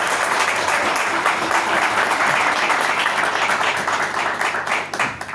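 Church congregation claps loudly for a preacher at a Spanish-language service, dense continuous applause from a close crowd, thinning slightly in the last seconds.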